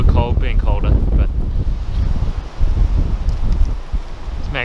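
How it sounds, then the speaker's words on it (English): Strong, cold wind gusts by the Upper South Esk River near Mathina, buffeting loudly and unevenly with roaring rushes; a voice is briefly heard at the start. "Not the most comfortable weather conditions. It's very, very windy."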